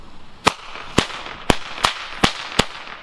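Six sharp Funke jumping-jack firecracker bangs pop in a loose, fairly even rhythm over a hissing background, each crack brief and loud.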